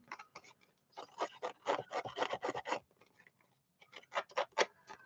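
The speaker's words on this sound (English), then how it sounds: "I'm going to give this a little bit of distress zhuzh. Okay, really scrape this." A surface being scraped for a distressed finish: repeated rasping strokes in steady rhythmic bursts, close and fairly loud, pause briefly, then resume with several more scrapes; no talking.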